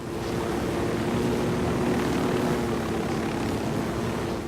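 A helicopter in the video game Ghost Recon Wildlands gives a constant rumbling, rotor-like drone with wind-like noise, steady and fairly loud, with no voices.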